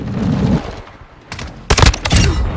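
Bursts of rapid gunfire in a first-person shooter game, with a quiet stretch first and then a loud, close volley of shots that keeps crackling to the end.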